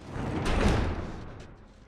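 Doors being barricaded in The Last of Us, a heavy wooden scrape and thud rising to a loud peak, then fading into a dull rumble.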